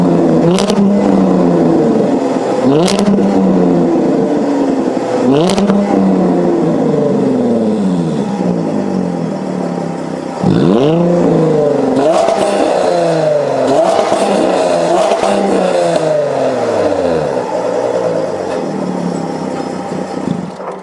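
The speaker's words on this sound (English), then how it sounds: "I'm gonna throw in a bonus exhaust clip so you could hear how this V6 sounds." A V6 car engine revs repeatedly through its exhaust, each sharp rise in pitch followed by a falling tail, loud and close, with a brief lull near the middle before a fresh series of revs.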